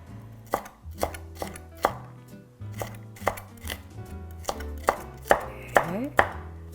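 Chili peppers chopped with a knife on a cutting board: a close, crisp series of a dozen or so sharp knocks at an uneven pace, sounding alone.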